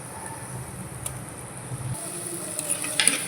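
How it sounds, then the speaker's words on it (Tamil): Ginger garlic paste frying with onions in a pan for a prawn and bottle gourd curry, a soft close sizzle with faint stirring scrapes and a few light clinks near the end. "இஞ்சி பூண்டு பேஸ்ட்டு பச்சை வாசனை போகிற அளவுக்கு நல்லா வதக்கி விட்டுறலாம்"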